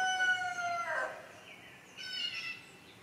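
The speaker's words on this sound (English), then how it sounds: "Yeah, Rooster said it all." A rooster crows twice, a long drawn-out call followed by a shorter one, moderately distant and heard on its own over quiet outdoor air.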